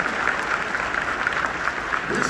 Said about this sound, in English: Give them a round of applause, because we're still with you.